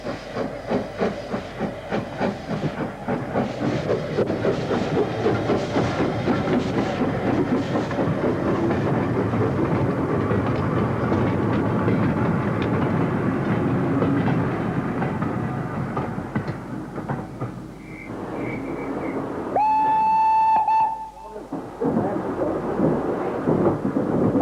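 Southern Railway P class steam engine 1556 running on the Kent and East Sussex Railway, a loud continuous chuffing and hissing with rhythmic beats, then a sharp whistle blast near the end.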